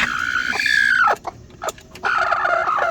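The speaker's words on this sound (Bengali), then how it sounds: "দেখেন এই যে দুইটা মুরগি বসেছে" Hens settled on a nest in a village coop give a long rising cluck and a few short clucks up close, followed by quieter rustling and a further steady run of clucking.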